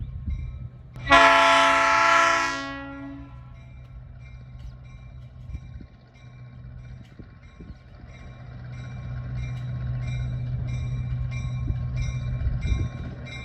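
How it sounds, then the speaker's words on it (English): A train horn blares loudly for about two seconds, then a heavy diesel freight train in Colorado rumbles and rolls closer, its low engine drone steadily building. "Here's some train horn. So the train is rolling in, as you guys can see."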